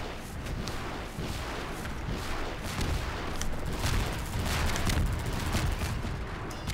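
Half-Life 2: Synergy gameplay fills the scene with dense, continuous gunfire: rapid shots and bursts pile up over a noisy battle backdrop from start to finish.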